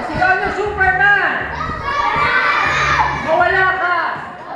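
Young children at a first birthday party shout "Superman" together in loud, excited bursts, with cheering crowd noise and adult voices mixed in.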